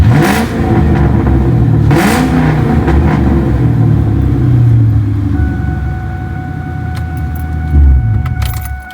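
A high-mileage Ford Mustang New Edge engine idles loudly up close, revving in a couple of quick bursts early on, then settling into a steady rumble with light metallic jangling toward the end.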